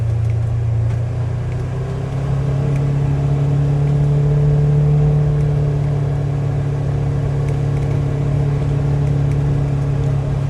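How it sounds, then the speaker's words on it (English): An ATV descends a steep hill in low range while its engine brakes, giving a steady, close, low droning hum with a gently shifting pitch that runs continuously for about ten seconds, with no voices. "Coming down that hill, I just dropped it into low range just to let the engine do the braking."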